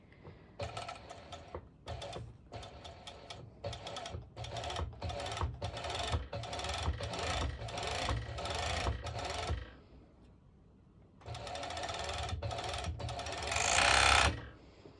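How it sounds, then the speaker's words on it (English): Serger overlocker stitching fabric for a sporty top, a fast mechanical whirring in repeated bursts with short pauses, then a brief quiet lull before a longer, louder run. "So now I'm going to my serger and I am going to serge this bit"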